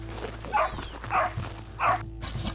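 Hunting dogs bark in the dry thorny brush by the Paraguay River, three loud barks spaced about half a second apart, fairly close over steady background noise, as they close in on a six-banded armadillo hidden in its burrow.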